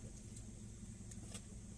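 A car climbing a mountain road, heard from inside the cabin as a steady, continuous engine hum and road rumble, with a few faint higher clicks and no talking.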